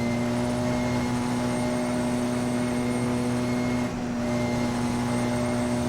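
Porsche 919 EVO race car in Assetto Corsa on the Isle of Man TT course, engine at speed with a loud, steady, droning whine holding constant throughout and a brief dip near the end as the throttle lifts.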